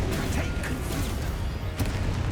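A Confringo fire spell bursts in Hogwarts Legacy gameplay, a dense booming blast over a busy combat din with a sharp explosive hit near the end.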